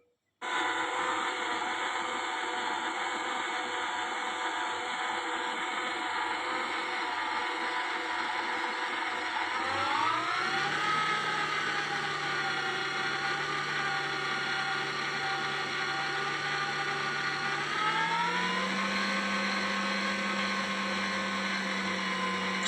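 A kitchen machine kneads and whisks içli köfte dough with a steady, loud motor whir that holds throughout and steps up in pitch twice as the speed rises.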